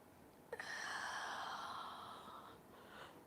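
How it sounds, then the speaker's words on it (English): A person yawns during a yoga session, a soft drawn-out breathy exhale lasting about two seconds after a brief intake, faint and close. "I'm yawning again."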